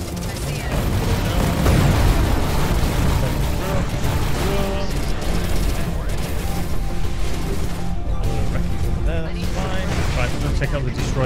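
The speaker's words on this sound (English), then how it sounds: "Explosion." Loud, continuous space-combat explosions and weapon fire from the video game Everspace 2 fill the whole stretch, dense booms layered over game music and effects, with a player talking throughout.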